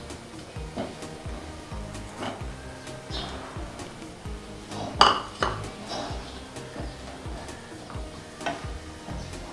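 Grated coconut being stirred in a pan while making coconut louzu, with repeated scraping and clinking of a utensil against the metal in an uneven rhythm, close but fairly quiet, with one sharper knock partway through.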